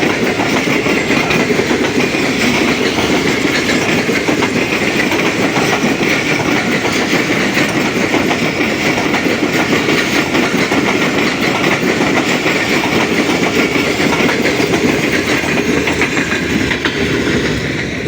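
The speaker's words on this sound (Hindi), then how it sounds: "मिल्लत एक्सप्रेस ने दोस्तों पास किया है" The Millat Express passing Shaheed Haider Ali railway station on a foggy, smoggy day, a loud continuous roar of rolling wheels and rattling carriages with steady clickety-clack close by.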